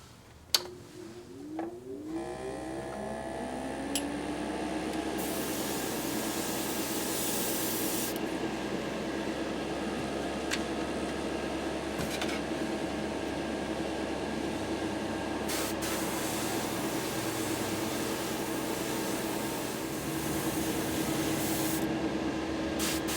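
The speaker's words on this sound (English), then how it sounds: "I've mixed it down with some airbrush thinner, some Vallejo, and I'm going to shoot it right now" Airbrush spraying thinned Turbo Dork yellow-gold paint mixed with Vallejo thinner, a steady close hiss that runs almost unbroken for over twenty seconds after a brief start, with no talk.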